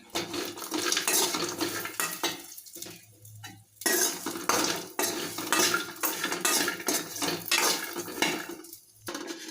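Grated coconut with sugar roasting in a pan, a spoon scraping and stirring against the metal in steady bursts, fairly close, with brief pauses between strokes and no talking.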